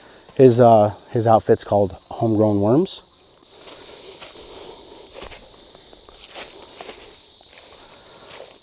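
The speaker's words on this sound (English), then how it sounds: "It is cicada season in Arkansas right now, and they don't care whether you like it or not." Cicadas in Arkansas give a steady, high, droning buzz that carries on without a break. Someone talks over it at first, then the buzz runs on alone at a moderate level.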